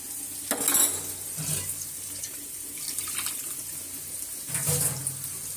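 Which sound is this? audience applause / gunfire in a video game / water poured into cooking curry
water poured into cooking curry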